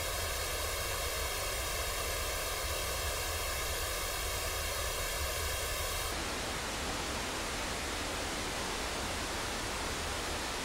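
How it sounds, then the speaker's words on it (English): A fountain sound effect in Wwise gives a steady rushing hiss of water. It has a comb-like phasing coloration for the first six seconds, then continues as a smoother wash, loud and continuous with no voices. "So let's bring back the fountain sound and let's listen to the phasing."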